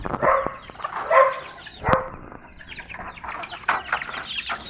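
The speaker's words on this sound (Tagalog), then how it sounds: "Ayan, mga sisiw na." On a small farm, young chicks give several short, bright cheeps and calls in scattered bursts, close by and moderately loud, with quieter rustling in between.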